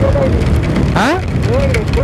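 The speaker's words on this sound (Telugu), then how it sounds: "వర్షం మరి." Rain falls steadily on a car during a road trip, a constant broadband hiss and patter under voices talking close by.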